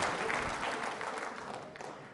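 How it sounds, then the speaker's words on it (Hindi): Studio audience at a televised quiz show for trainee RAS and RPS state service officers applauds a contestant with steady, dense clapping filling the room throughout. "तालियां जोरों से बजाइए इनके लिए आप।"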